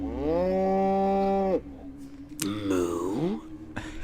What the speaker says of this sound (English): Moo? Primitive, yet profound.